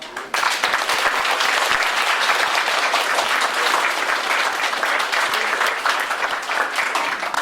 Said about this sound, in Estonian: Et teeme nendele ka ühe aplausi